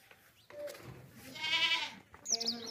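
A goat bleats close by in a couple of wavering calls at a livestock market where sacrificial and milking goats are sold, with low voices and background chatter around it.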